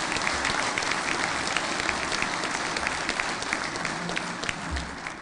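An audience at the 2012 Surface Navy Association National Symposium applauds steadily after a speech. The clapping forms a dense, even wash with no voices over it.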